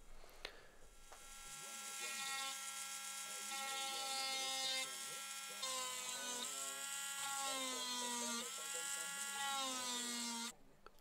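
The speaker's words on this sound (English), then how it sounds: "use the rotary tool just to put a little burr on the end, just to get a bit of depth" A small high-speed rotary tool whines steadily as it burrs marker holes into wooden control knobs for a bass guitar, the pitch wavering slightly under load with brief drops, close and continuous for about ten seconds.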